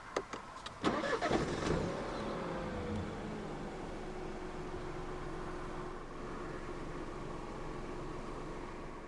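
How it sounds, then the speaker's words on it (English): A 2016 BMW 118i Sport Line five-door hatchback from the F20 1 Series starts by push button, with a brief crank and catch followed by a smooth, quiet idle hum that settles and holds steady. "Put your foot on the clutch and press the start button to the left of the steering wheel."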